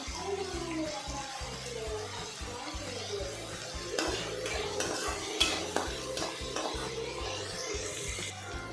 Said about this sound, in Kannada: ಆನಿಯನ್ ಫುಲ್ ಸಾಫ್ಟ್ ಆಗೋವರೆಗೂ ಚೆನ್ನಾಗಿ ಫ್ರೈ ಮಾಡ್ಕೋಬೇಕು.